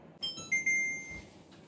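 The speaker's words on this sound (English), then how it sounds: "When the alarm sounds" An oven timer alarm rings alone for a little over a second: a few sharp electronic beeps that open into a sustained tone, close and clear against a quiet kitchen.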